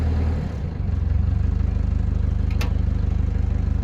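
A car engine with a suspected fuel fault, its service long overdue, runs at a steady, loud mid-pitched idle with a regular pulsing beat. There is a brief knock partway through, and no clear rev rise and fall is evident.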